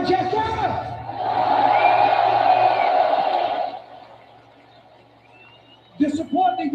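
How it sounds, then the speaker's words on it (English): Arena crowd at a UFC event in Manchester cheers and applauds loudly in a sustained wash of noise that fades to a quieter hum, with a voice over a loudspeaker carrying through the hall. "Round of applause."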